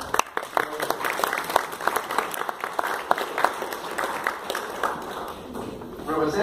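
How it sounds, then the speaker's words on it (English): A room full of people at a conference in Prague breaks into sustained applause, dense clapping that carries on for several seconds and swells slightly near the end. "Let us give one big applause to her."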